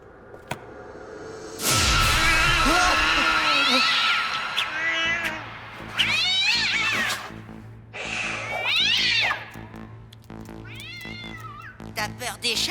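A cartoon cat meows and yowls in a run of loud, drawn-out, wavering cries that rise and fall, separated by short pauses, against a faint whoosh and low background tone.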